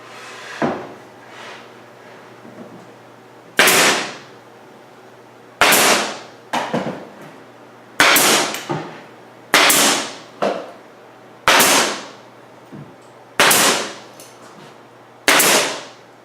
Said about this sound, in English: Going to use some pin nails